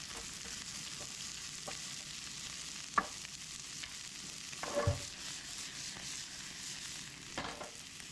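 Beans, onions, mushrooms and green pepper fry in a pan for a fish dinner. The sizzle is quiet and steady, with occasional sharp utensil clicks and stirring scrapes breaking through it.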